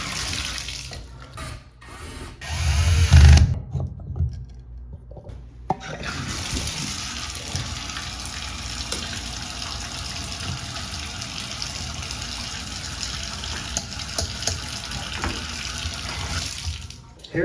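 Hot water runs from a shower valve with a pressure-balance cartridge, a steady rushing spray that gushes loudly at first and then settles into a constant flow.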